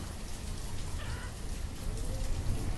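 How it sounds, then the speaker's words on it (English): Heavy rain falls steadily in the village-building game Banished, a dense broadband hiss holding at an even level for a few seconds with no voices over it. "Man, it's raining so hard again."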